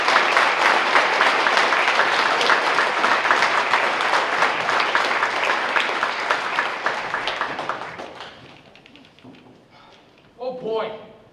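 After a jazz performance, an audience applauds loudly with dense, sustained clapping that gradually thins and dies away, followed by a brief burst of talk near the end.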